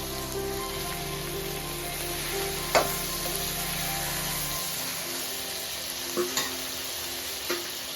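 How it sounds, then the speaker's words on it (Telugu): Green chillies and tomatoes frying in oil for gongura pachadi give a steady close crackling sizzle, rain-like and even, with a few sharper pops and stirring knocks scattered through it. "పచ్చిమిర్చి కొంచెం ఫ్రై కాగానే మనం టమాటాలు వేసుకోవాలండి."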